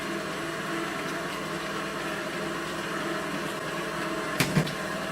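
An electric mixer runs steadily at slow to medium speed, whirring through cheesecake filling as gelatin is added, with a couple of brief knocks near the end.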